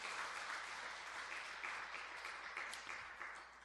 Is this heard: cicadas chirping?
no